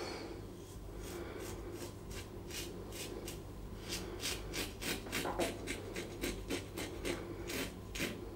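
A block of alum rubs across freshly shaved skin with soft, close scratchy strokes repeating in an uneven rhythm, quiet and alone.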